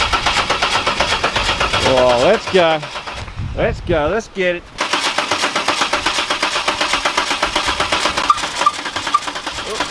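An LS engine fitted in a ute cranks and catches, then settles into a steady, rough idle with a lumpy rhythm, loud and close; excited voices talk over the start.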